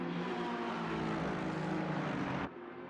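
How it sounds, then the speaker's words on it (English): Racing car engines roaring at the Hungaroring, including a Mercedes and a Ferrari: a loud, steady, gravelly engine drone holding for over two seconds before abruptly dropping to a quieter rumble. "hearing these different sort of engine noises, you know, literal guttural like roar of the Mercedes"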